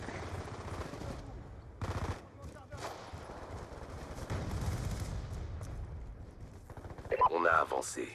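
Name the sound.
FAL-DSW rifle gunfire in video game Call of Duty Black Ops 2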